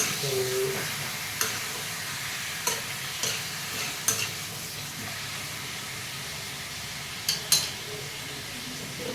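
Chicken curry gravy stirred in a pan: a soft continuous fry under a handful of scraping clinks from the spoon spaced a second or two apart, with no talking.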